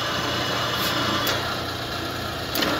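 A Polamco TUG-40 geared-head gap-bed lathe runs forward at about 600 RPM, a steady, dense mechanical whir and hum with a faint high whine, holding even throughout.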